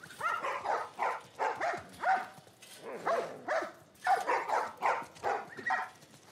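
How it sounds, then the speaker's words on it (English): Dogs in the video game The Last of Us Part I bark in a rapid, steady series of roughly a dozen sharp, rhythmic yaps at moderate distance, with no voices over them. "There's a lot of barking."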